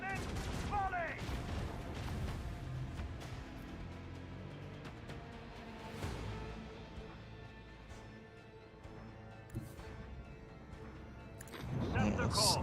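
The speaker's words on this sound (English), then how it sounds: "Macro cannon. Volley." Macro cannons in a space strategy game fire a volley, a series of sharp booming blasts and rumbling impacts spread across the clip, with a voice speaking over them.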